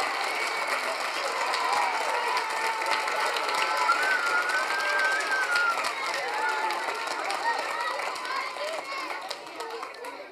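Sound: audience applause for the teachers at a school concert

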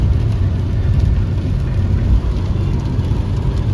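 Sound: car driving in fifth gear on asphalt road

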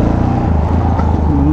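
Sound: Yamaha XT660 motorcycle engine

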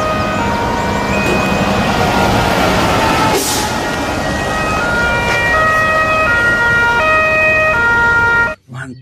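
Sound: fire tanker truck siren

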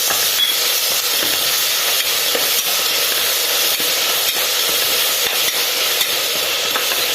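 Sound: green chillies sautéing in a pan for vegetable kurma

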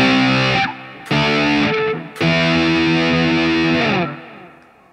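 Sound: electric guitar with digital effects from a cellphone

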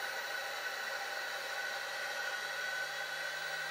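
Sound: VEVOR 3kW spindle motor accelerating to maximum speed

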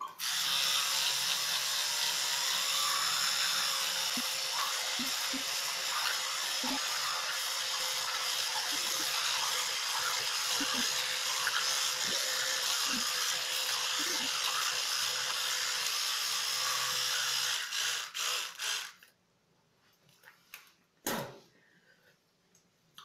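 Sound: brushing teeth with a toothbrush

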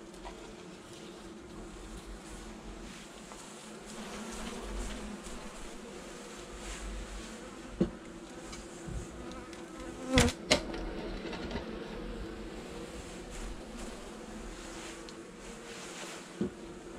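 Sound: buzzing honeybees at an open hive

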